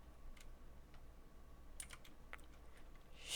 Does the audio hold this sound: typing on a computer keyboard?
yes